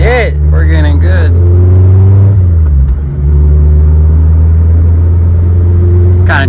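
A Mazdaspeed 3 with a misfire accelerating on a test drive: loud close interior engine drone rising in pitch, dropping at a gear change, then pulling again, with a voice speaking over it at the start and end.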